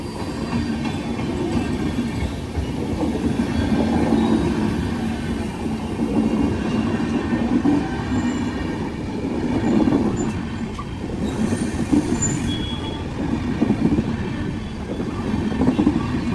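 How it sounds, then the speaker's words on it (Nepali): A passenger train passing at Dhanushkodi, a steady loud rumble with rhythmic wheel clatter and occasional squeal sustained throughout, with no voices. "पेसेन्जर ट्रेन नै रहेछ"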